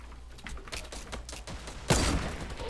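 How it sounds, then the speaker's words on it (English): Rapid minigun fire in Fortnite, a fast burst of rattling shots followed by a louder, denser blast near the end, with no talking. "They have mini guns."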